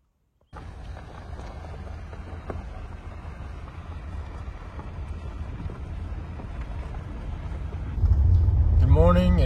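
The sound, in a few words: wind blowing outdoors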